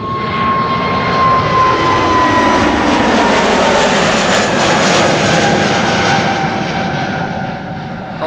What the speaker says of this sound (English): BA A320 Neo to London Heathrow.